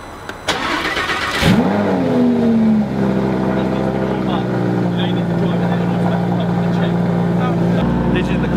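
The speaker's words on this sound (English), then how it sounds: "You've started the car, it needs to warm up." A Lamborghini Huracan engine cranks and catches, then settles into a steady idle with a low hum as it warms up in the cold, while voices talk nearby.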